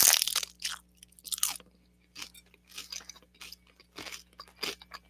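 Someone crunches and chews on cheesy nachos topped with jalapeños, giving a string of loud, close bites and crunches in irregular bursts, with short quiet gaps between them.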